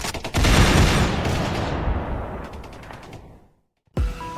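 StG-44 assault rifles fired by German SS troops at a tank in a war film battle scene, a dense burst of rapid gunfire that rings out and decays, then a fresh loud shot.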